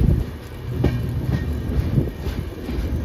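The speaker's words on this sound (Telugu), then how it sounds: "వైజాగ్ లైన్లోకి అయితే ట్రైన్ చేంజ్ అవుతుంది ట్రాక్." Passenger train 08546 from Kurnool to Visakhapatnam rumbling steadily as it crosses onto a different track, with low, continuous wheel-and-carriage noise and a few faint clacks over points, no voices.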